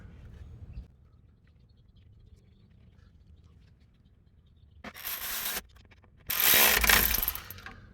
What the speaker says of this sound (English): Then we're gonna go ahead and tighten our E-bit sockets, or our E-bit bolts.